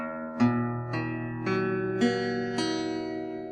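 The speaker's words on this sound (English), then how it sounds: "pluck each string individually to see that they all sound clear" Guitar chord picked one string at a time, five or six clean notes ringing out in sequence and sustaining together, each string sounding clear and bright, close and alone with no voice.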